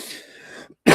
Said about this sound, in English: if I keep coughing, I apologize